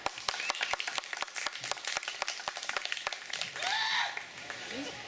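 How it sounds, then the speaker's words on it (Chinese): Scattered, distinct handclaps from a small audience at a live music gig at a village venue, each clap sharp and separate, with voices briefly rising over them toward the end. "给我们掌声一下吧"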